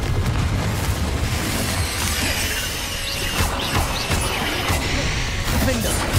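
Confringo fire spell blasts in Hogwarts Legacy, loud booming crashes and crackling impacts layered with dense combat noise that runs continuously, with spoken voices over the battle.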